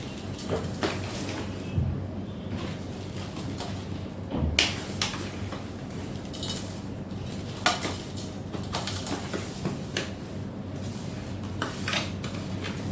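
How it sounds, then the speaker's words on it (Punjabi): Mango pickle is filled into a plastic container, with repeated close clinks and knocks of a spoon and utensils against the vessels and soft scraping throughout, with no voices. "ਅੰਬ ਦੇ ਅਚਾਰ ਨੂੰ ਆਪਾਂ ਇਸ ਵਾਲੇ ਕੰਟੇਨਰ ਵਿੱਚ ਭਰ ਦਿੰਨੇ ਪਲਾਸਟਿਕ ਦਾ ਕੰਟੇਨਰ ਆ"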